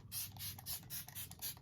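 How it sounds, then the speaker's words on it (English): Smashbox Photo Finish Primer Water sprayed onto a face from a pump bottle, heard as about six quick, hissing mist bursts in a steady rhythm, close but soft, with no voices. "I'm gonna use my Smashbox Photo Finish Primer Water, and I'm going to spray this on my face before I even begin."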